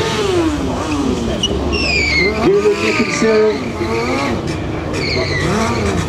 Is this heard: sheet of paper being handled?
no